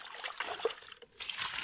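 Water trickles and splashes into a bio-waste bin as it is rinsed outdoors by a cowshed, a short broadband wash of dribbling liquid with a brief pause midway.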